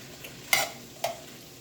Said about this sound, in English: And I like stirring it because I do want that garlic and butter to saturate all of the vegetables.